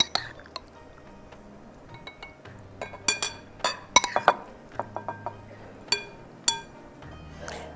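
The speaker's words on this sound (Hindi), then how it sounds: "और ग्रीन जेली भी जाएगी।" Green jelly spooned into a glass serving bowl, scattered soft clinks and taps of a spoon against glass with small wet plops, close and fairly quiet over a low background.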